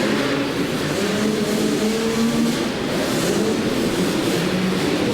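Suzuki 250 motocross bikes race around an indoor Supercross-style track at a 1993 arena championship, their engines a steady, distant droning whine that rises and falls as the pack circulates.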